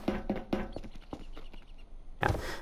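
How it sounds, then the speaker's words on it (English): Footsteps in the horror game Voices of the Void: a few quick, close thumping steps in a short run, a pause, then a louder scuffing burst at the end. "some of those footsteps I'm hearing are just like normal animals"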